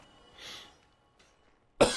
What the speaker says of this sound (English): I have a little bit of a cough from allergies